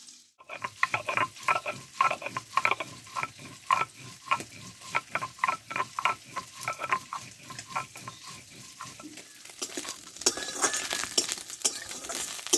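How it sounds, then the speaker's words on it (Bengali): Small fish fry in hot oil, a close sizzle broken by rapid, rhythmic crackling bursts and stirring scrapes, steady at first and then swelling into a denser, brighter spitting hiss toward the end. "মাছটা ভাজা হতে থাক"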